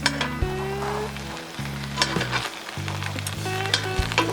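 Sausages sizzle in a cast iron skillet on a Weber Q1200 gas grill, giving a steady crackling fry with a low mechanical hum beneath and occasional sharper pops and clatters close by.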